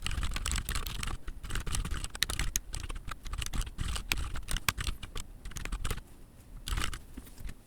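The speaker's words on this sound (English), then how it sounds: "I'm just gonna type in some boilerplate." Rapid, uneven clatter of keys on a computer keyboard as boilerplate for a web page is entered, steady close typing with brief pauses and no voices.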